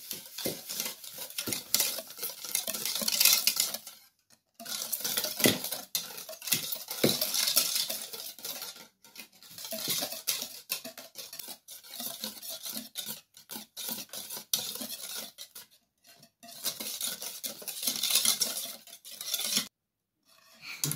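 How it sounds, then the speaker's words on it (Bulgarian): A utensil scrapes and stirs beaten eggs with sugar in a bowl, giving repeated rasping strokes in bursts with short pauses between them, close up and with no voices. "След като ги разбием, добавяме захарта. И бъркаме хубаво."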